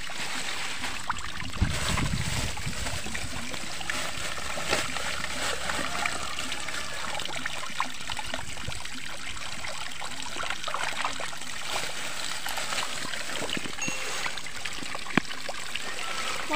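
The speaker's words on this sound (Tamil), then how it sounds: "அதாவது சிக்கன் கழுவுறாங்க பாருங்கள்." Running water pouring steadily while raw chicken is washed in bulk for a biryani, a continuous loud rushing and splashing that fills the whole stretch, with faint voices in the background.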